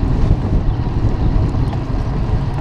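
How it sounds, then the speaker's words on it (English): Outdoor wind buffeting a microphone in a continuous low rumble and roar that stays loud and steady throughout, with no talking. "woo, it's windy"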